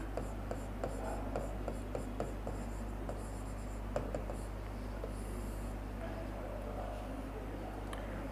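Chalk or marker writing on a classroom board during an economics lesson: faint, regular tapping and scratching strokes over a steady low hum, with no talk.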